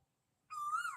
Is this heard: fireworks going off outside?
no